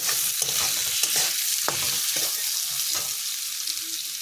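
Salted mustard paste being stirred in a hot pan, a constant frying sizzle with repeated scraping strokes of the spatula at irregular intervals, close and clear with no voices.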